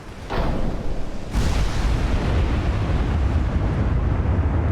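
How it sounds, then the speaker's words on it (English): In the naval game Ultimate Admiral Dreadnoughts, 20-inch guns fire two heavy, booming blasts in quick succession. A dense, loud rumble follows and stays steady to the end. "Let's hear these 20-inch guns going."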